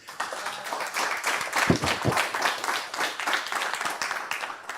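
Conference audience at an industry summit claps steadily for a presenter taking the floor, a full, even applause holding for several seconds.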